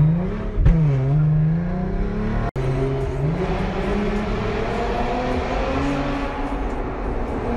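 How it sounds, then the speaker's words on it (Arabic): A small Genesis coupe drifts with its engine revving hard, rising and falling in pitch through one sharp surge and a sustained roar, loud and close with no talking. "طبعا راعي الجينيسيس يحب درفت، فتفضل"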